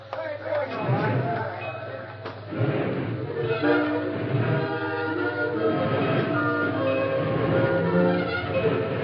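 A steam train rumbles and clatters as it pulls away, a horn sounding over steady mechanical noise, with voices and background bustle mixed in.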